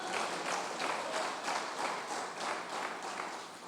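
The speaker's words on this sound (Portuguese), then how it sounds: "Dê as palmas para ele" A church congregation claps steadily together, a dense wash of hand claps at a moderate distance with gentle swells in volume and no speech over it.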